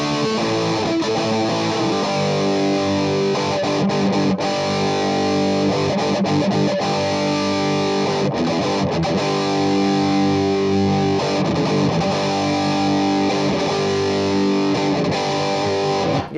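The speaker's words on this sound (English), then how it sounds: "How about the Kinky Boost with it?" An electric guitar played through the Kinky Boost pedal model on a POD Go rings out loud and distorted, with sustained boosted chords and riffs filling the whole stretch without talk.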